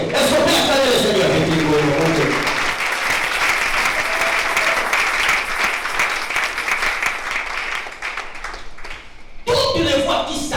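A church congregation breaks into loud, sustained applause and clapping for the Lord, filling the room for several seconds before a short pause and a renewed burst, with voices mixed in.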